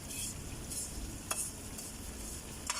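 Garlic sizzling as it is sautéed in a pan for ginisang bagoong, a steady quiet crackling hiss with a few brief brighter pops and light stirring throughout.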